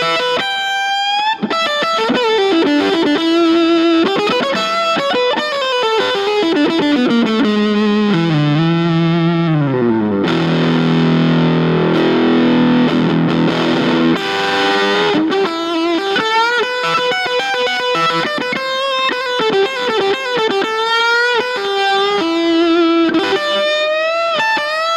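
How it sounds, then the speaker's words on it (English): Electric guitar playing single-note lead lines through a Rocky Mountain Fuzz pedal with reverb and delay, loud and sustained with a thick distorted tone throughout, a denser chordal swell in the middle, no talking. "So now let's try some single note lead lines. I'm going to add a touch of verb and delay"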